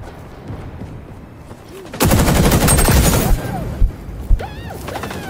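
An L86 rifle in XDefiant fires a loud, rapid automatic burst for over a second, followed by a couple of sharp single shots and faint whooshing effects against a low game background.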